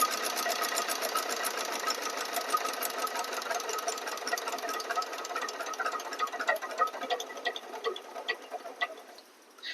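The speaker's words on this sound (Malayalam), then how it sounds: "fuel പമ്പിലേക്കുള്ള fuel supply cut off ചെയ്തുകൊണ്ട് നമുക്ക് എഞ്ചിനെ സ്റ്റോപ്പ് ചെയ്യാം" A single-cylinder diesel engine on a load test runs with a steady, fast mechanical clatter, loud and close, then dies away abruptly near the end after its fuel supply is cut.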